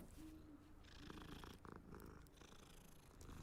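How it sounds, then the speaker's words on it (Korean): A cat in the video game Hogwarts Legacy purrs softly and continuously, a low, steady rumble heard alone at a faint level. "고양이가 그르릉 하는 소리는 인간에게 좋다고 하네요."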